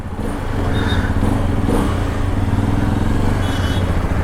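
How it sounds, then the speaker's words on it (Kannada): A Hero Xpulse 210 motorcycle with its stock exhaust rides along, giving a steady close engine drone with rough rumbling exhaust and some clatter and wind, no voices. "ಸೊ ಅಷ್ಟು ಲೌಡ್ ಉಂಟಿದು, ಸ್ಟಾಕ್ ಎಕ್ಸಾಸ್ಟ್ ಇದರದು."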